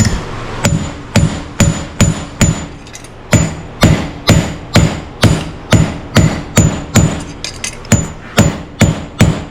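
Hammer blows on a saw blade being stretched, roughly two dozen sharp, ringing metallic strikes in a steady, even rhythm, loud and close with no talking.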